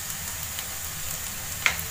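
Spices and cumin sauté in a pan for chicken fry, giving a steady, moderate sizzle with a single sharp clink of a utensil near the end.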